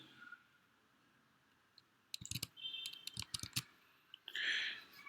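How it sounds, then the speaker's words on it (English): Typing on a computer keyboard while entering an impedance expression: faint room hush, then short clusters of quick key clicks and taps, quiet and close, with a brief electronic chime near the end. "here, this is what I'm going to type here."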